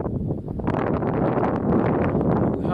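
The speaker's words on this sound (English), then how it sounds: "the wind is picking up" Strong wind gusting across an exposed mountain tarn campsite at dusk, a loud continuous rushing buffet on the microphone that swells throughout, with no talk.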